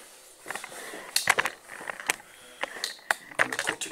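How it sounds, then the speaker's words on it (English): A box of 25 Romeo y Julieta Petit Churchill cigars is cut open up close, with a series of sharp, irregular clicks and scratchy cuts against quiet. "this is what a box of 25 looks like. So I'm going to cut it up."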